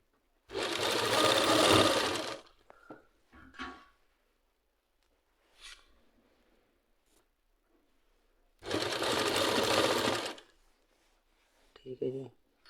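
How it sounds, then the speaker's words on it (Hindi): A sewing machine stitching an Afghani salwar, running in two loud bursts of about two seconds each. Light handling noises and brief speech fill the quiet gaps between the bursts. "तो इस तरह से आपने इसको सिलाई मारना बिल्कुल बढ़िया करके।"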